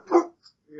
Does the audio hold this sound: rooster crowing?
no